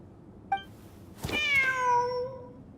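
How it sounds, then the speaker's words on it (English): A cat in a video game gives a short chirp, then a long, clear, drawn-out meow up close against a quiet low background hum. "Wait, there it is! The cat!"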